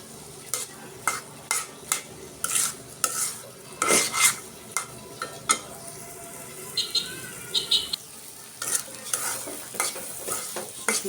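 Dried fish bhorta with taro leaves tempering in hot oil, with intermittent stirring scrapes and clatters over a steady sizzle and a few faint bird calls in the background.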